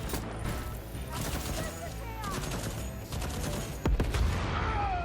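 An automated turret in Deathloop fires rapid bursts of gunfire, sustained and fairly loud, while a person talks over the shooting.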